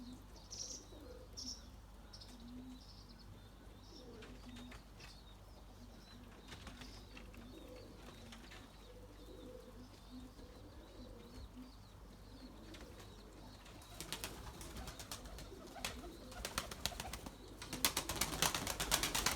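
Erzurum white breeding pigeons coo softly and repeatedly at a distance, with scattered chirps and bursts of wing flapping that grow louder and busier toward the end.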